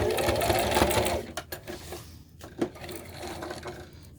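A sewing machine stitches a tote bag in a fast burst of close, rattling needle strokes, then stops, followed by a few light clicks and handling knocks.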